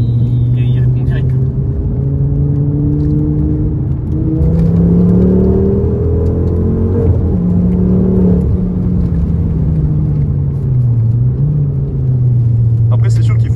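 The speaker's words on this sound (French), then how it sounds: "Putain, t'as le turbo qui déclenche direct." Ford Focus ST Mk2 with a stage 2 tuned turbo engine building revs, a loud steady drone with rising and falling tones as the car accelerates, heard from inside with people talking over it.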